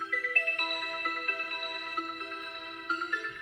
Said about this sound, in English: the Bell Echo Harp could sound like this